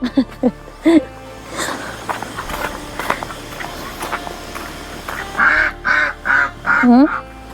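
Several loud, nasal duck quacks come in bursts, a rapid run of them near the end, close by with some rustling between.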